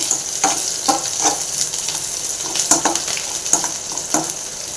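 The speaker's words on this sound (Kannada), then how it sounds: "ಚೆನ್ನಾಗಿ ಫ್ರೈ ಆಗ್ತಾ ಇದೆ" Food frying in a pan on low gas heat, a steady close sizzle broken by repeated stirring scrapes and bursts of crackle, with no voices.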